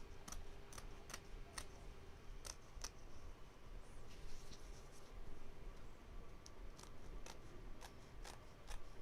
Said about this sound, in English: I'm using my favorite applique scissors. They're these little tweezer. I think they're called iris scissors.